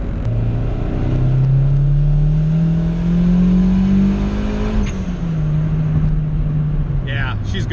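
A turbocharged, GSR-swapped Honda Civic EG engine revs close by, its pitch climbing smoothly, holding, then easing back down, with a voice talking over it.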